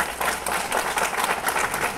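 Audience applause at a seminar on HIV and AIDS, a dense, steady wash of many hands clapping at once, fairly loud and sustained throughout with no voices over it.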